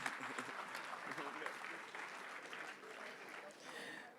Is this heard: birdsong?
no